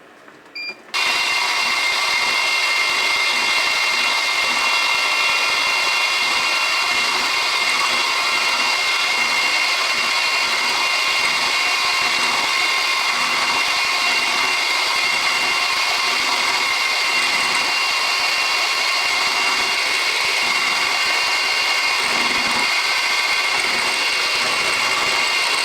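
Metal machining flattens the top corner of a tangential diamond tool holder, a continuous steady grinding whine held close and loud for the whole stretch, with no talk.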